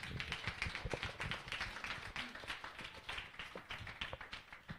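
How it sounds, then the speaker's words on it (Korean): A small group claps steadily for a few seconds, quick uneven hand claps at moderate volume in a room during a church youth service. "박수."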